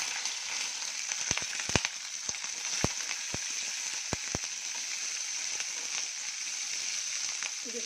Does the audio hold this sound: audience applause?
no